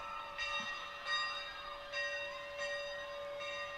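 At a homecoming parade, a bell rings in clear, resonant strikes about every three-quarters of a second, each tone ringing on and overlapping the next over a quiet crowd background.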